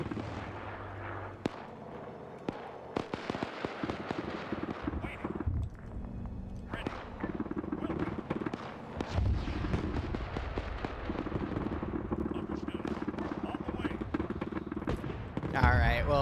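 German PAK anti-tank gun fire in a wartime video game: sharp distant booms scattered across a continuous low battle rumble, with a voice talking over parts of it.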